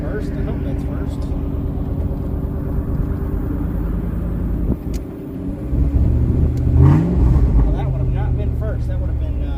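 A Mustang GT with a swapped Cobra engine roars and revs hard during a burnout attempt, a loud sustained rumble with a surge in pitch midway, voices faintly mixed in.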